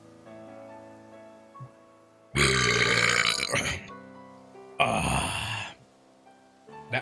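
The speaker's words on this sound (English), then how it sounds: "That is what you would call a burp" Two long, loud, deep burps from a person, each a drawn-out guttural rumble with a brief gap between them, over faint background music.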